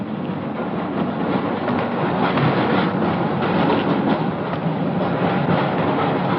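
A train runs steadily on its rails with a loud, continuous rumble and a rolling clatter throughout. It stays close and unbroken, with no voices.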